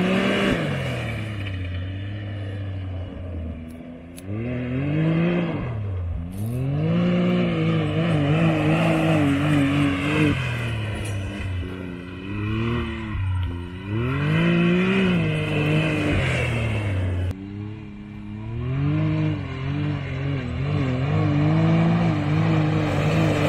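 A Can-Am Maverick X3 Turbo accelerates hard in repeated pulls, its engine rising and falling in pitch as the turbo comes in, loud and continuous with no talk.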